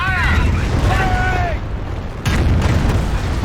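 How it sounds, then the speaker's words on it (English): A rocket barrage pounds the battlefield in the World War II strategy game Company of Heroes, with heavy booming explosions and rumbling impacts. A whistling incoming sound comes first, then a short lull before another loud blast. "There you go, rockets incoming."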